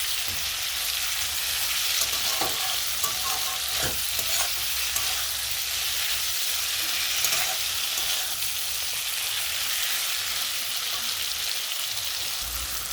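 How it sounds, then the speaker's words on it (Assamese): Assamese taro and meat sizzle hard in an uncovered pan, with a steady close crackle and scattered stirring scrapes and clinks early on. No one speaks. "আৰু এতিয়া মই কচুখিনিৰে সৈতে মাংসখিনি ভালকৈ ভাজি ল'ম"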